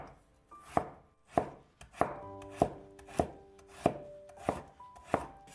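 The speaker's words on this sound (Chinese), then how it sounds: "下面准备1根去皮的胡萝卜，先切成小段，再改刀切成菱形片。" A kitchen knife slicing a peeled carrot into diamond-shaped pieces on a cutting board, nine crisp, evenly spaced chops at a steady, unhurried pace, close and clear with no talking.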